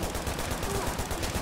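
Rapid automatic gunfire from a co-op session of The Division video game, a dense continuous stream of shots filling the whole moment at steady loudness with no talk over it.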